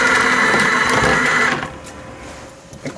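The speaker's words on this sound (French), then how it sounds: "Si je veux, je peux faire bouger le robot via mon téléphone portable." Roborior surveillance robot driven remotely by mobile phone, giving a steady mechanical whir for about a second and a half that stops abruptly, leaving faint room noise.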